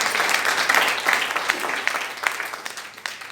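A church congregation breaks into sustained, dense applause, many hands clapping together at an even level throughout.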